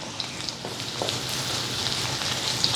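Fresh curry leaves and a few green chillies sizzle in hot oil, a steady close crackling fry with small pops scattered throughout and no talking.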